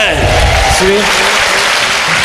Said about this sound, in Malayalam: ഒത്തുകൂടെ കൈയടിച്ച് കൊടുത്തേ